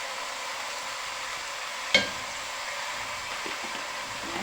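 Chicken with spices and bay leaves sautés in a pot for an Egyptian-style soup, a steady close sizzle and hiss running throughout, with one sharp clink of a utensil partway through.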